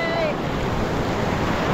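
Sea waves at Diveagar beach on the Konkan coast, a loud steady wash of surf mixed with wind noise on the microphone, brief and without talk.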